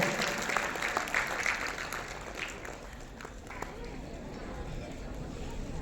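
Audience applause at a student honors ceremony in Kalol, clapping that starts fairly full and thins gradually, with voices faintly mixed in beneath.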